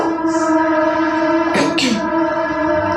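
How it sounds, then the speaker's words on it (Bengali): A train passes nearby with a steady droning hum throughout, and a short rattling burst breaks in just past the midpoint. "ট্রেন যাচ্ছে তো"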